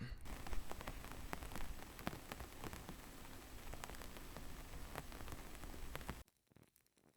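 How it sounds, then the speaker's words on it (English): A soft rain texture layered under a lo-fi beat: a steady patter of drops with scattered sharper ticks and crackle, holding evenly before cutting abruptly near the end. "I decided to do a little bit of rain noise"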